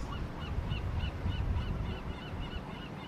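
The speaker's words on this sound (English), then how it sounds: "we hope that the seagull sounds are there to lift the soul" Seagulls calling at Monterey Bay at sunrise, heard from the aquarium: repeated honking, goose-like cries spread across a few seconds over steady low wind and surf rumble, moderately distant.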